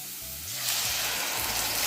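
Chopped capsicum sizzling in a pan for a pizza sauce, a close, steady frying hiss that swells after a moment, with faint low stirring bumps underneath.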